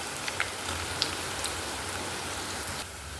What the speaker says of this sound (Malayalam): പുറത്ത് മഴ പെയ്യണ്ടേ